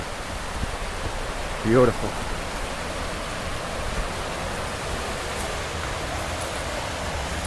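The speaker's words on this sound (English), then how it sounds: "Look at this waterfall we're walking up onto." Steady broadband rush of a woodland waterfall and creek at a state park, continuous and fairly even throughout, with a brief spoken word from a hiker partway in.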